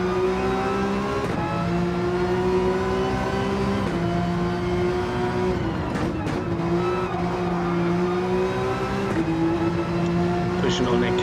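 Aston Martin GT4 race car in a sim racing game, heard on board during a lap: a loud, constant engine note that climbs through the revs and drops sharply at each gear change or lift, while a commentator talks over it.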